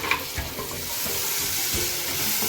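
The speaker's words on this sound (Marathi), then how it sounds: "आता लगेचच आपण लसूण घालूया त्याचबरोबर आपण टोमॅटोसुद्धा घालू आणि हे सुद्धा चांगलं परतून घेऊ तेलामध्ये" Garlic and tomato are sautéed in oil with onion for paneer bhurji, giving a steady, close oily sizzle with soft scraping stir strokes throughout.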